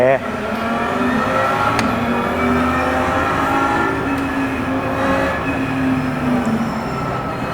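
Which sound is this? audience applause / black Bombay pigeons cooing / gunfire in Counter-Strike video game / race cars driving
race cars driving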